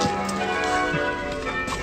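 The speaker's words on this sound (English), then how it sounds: "Don't know if you can guess what the time is in the background with the bells" Church bells ring the hour in the distance on an evening beside the Grand Western Canal, a steady faint tolling under outdoor ambience.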